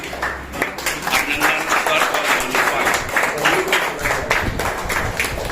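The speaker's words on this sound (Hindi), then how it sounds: "तालियां बजा के स्वागत कर दीजिए" Audience at a Sanskar Shala gathering claps to welcome a revered acharya, a dense steady wash of hands over about five seconds with a voice speaking over it.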